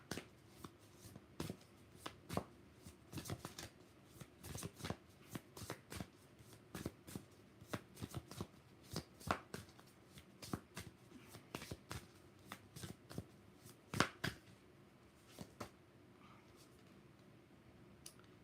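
Oracle cards are shuffled by hand for a tarot reading, giving quiet, close riffling snaps and irregular bursts of flicks that repeat across the whole stretch.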